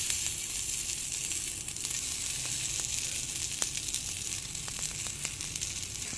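Stuffed bitter gourd with onion-chili filling sizzles steadily in a pan of oil with mustard seeds and curry leaves, a constant close hiss with occasional small pops and light stirring clicks.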